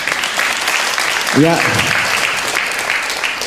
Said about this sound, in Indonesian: Boleh tepuk tangan untuk Ahilman